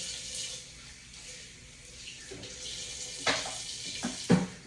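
Water runs from a kitchen tap into the sink to wash something, a steady hiss with a few knocks and clatters near the end.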